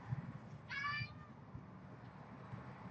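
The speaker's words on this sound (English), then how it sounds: "I've got a cat meowing over here." A cat gives a single short meow indoors, brief and faint, over a low steady background hum.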